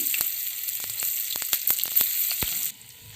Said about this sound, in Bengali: তেলের ওপরে গরম মশলা একটু দিয়ে দিলাম। তারপর আমি পেঁয়াজ দিয়ে দিলাম।